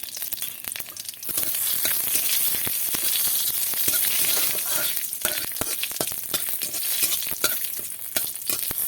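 Cumin seeds dropped into hot oil with dried chillies in a wok: quiet at first, then a sudden surge of dense crackling sizzle with sharp pops and stirring scrapes, close and continuous.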